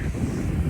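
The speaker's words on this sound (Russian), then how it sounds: "Ветер еще дует." Wind blows at the seashore, rushing steadily with low buffeting against the microphone and a faint wash of sea behind it.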